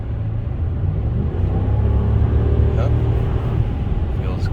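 Deep, steady rumble of a 2014 RAM 1500 Laramie Hemi V8 heard from inside the cab as it downshifts, low engine drone rising slightly in pitch, with a voice talking over it.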